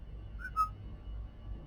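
A brief, thin attempt at a whistle, two faint short tones rising over a steady low hum of a spaceship game in Elite Dangerous, with no talking.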